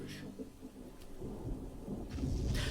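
Rain and thunder in the video game Swords and Sandals 5 Redux, a soft steady patter with low rumbles rolling underneath, quiet and continuous without talk.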